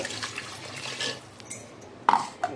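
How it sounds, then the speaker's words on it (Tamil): Rinse water from a blender jar is poured into banana-stem soup, a close splashing pour ending in a couple of sharp clinks. "தண்ணி சேர்த்துக்கலாம். ஜார் அலசின தண்ணி"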